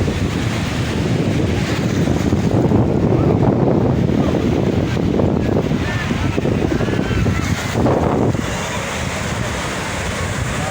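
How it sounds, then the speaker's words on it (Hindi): Sea waves at the Karachi seafront wash in and pull back in a continuous surging hiss, with gusty wind buffeting the microphone throughout. "ये पानी की लहर आ रही है और वापस जा रही है।"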